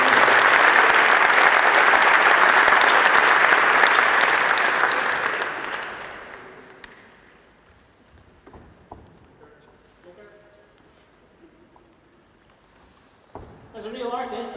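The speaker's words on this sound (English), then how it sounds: "And audience, give a round of applause." An audience at a startup funding event in Rotterdam applauds loudly and steadily for about five seconds before the clapping fades away, followed by quieter room sounds and a burst of noise near the end.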